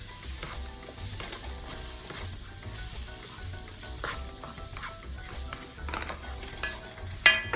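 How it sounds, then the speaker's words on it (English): Ground masalas, Kashmiri chilli and cayenne pepper, sizzle in a frying pan while being stirred: a continuous crackling fry with repeated utensil scrapes and a louder knock near the end, and no voices. "Just give it a quick stir."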